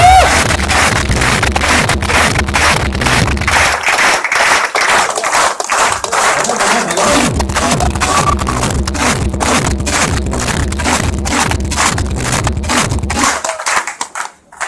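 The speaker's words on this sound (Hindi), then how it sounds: "बहुत तालियां बजा के इनका स्वागत" Large business-meeting audience claps loudly and steadily to welcome newcomers, a dense continuous roar of hands lasting over thirteen seconds before thinning out at the end.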